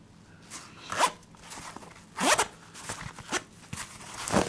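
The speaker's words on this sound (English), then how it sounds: "When the pouch is unzipped" A padded Cordura knife pouch with double zippers is unzipped in several close, crisp zipping pulls, each a short rasping sweep, with quieter handling sounds between and no talking.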